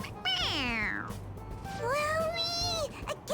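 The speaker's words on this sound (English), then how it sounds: "It meows when you press on its head." A stuffed toy cat in Persona 5 Royal lets out two drawn-out, high meows when its head is pressed, the first sliding downward and the second wavering, set over a soft background.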